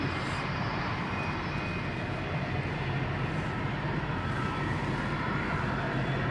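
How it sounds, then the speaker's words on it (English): Rolls-Royce RB211 airliner engines, like a 747's, hold a steady broadband roar at a cargo airport, even and unbroken at moderate loudness throughout. "listen to those RBs, man. Sounds like a 747."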